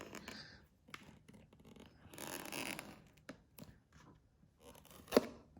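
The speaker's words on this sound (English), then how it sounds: "Probably should be using a knife for this, but scissors work." Scissors cutting open the plastic packaging of an Amcrest Wi-Fi video doorbell during an unboxing, with close, quiet irregular snips, scratches and plastic crinkles spread across the moment.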